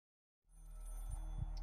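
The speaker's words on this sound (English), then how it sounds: "Oh, it's a phone call." A telephone rings in the horror game Maid of Sker, its bell starting abruptly after a silent moment and ringing on loudly and steadily, with no talk over it.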